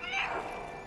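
A cat meows in the video game Stray, one short drawn-out mew heard alone and fairly close over a soft background.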